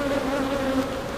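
Honeybees buzz steadily around an open beehive on a farm hive with possible mite problems, a dense continuous droning hum with a clear pitched tone, close and loud with no talking.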